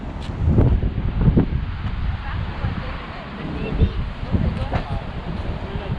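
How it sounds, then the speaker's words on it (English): Strong wind at Bodega Bay buffets the microphone in rough, uneven gusts, with a rumbling roar that swells and eases throughout. "it's very windy"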